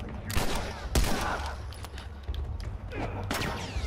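Gunfire from hostile hunters in The Last of Us Remastered, with several sharp, loud shots at irregular intervals cracking out over a dense, rumbling game backdrop.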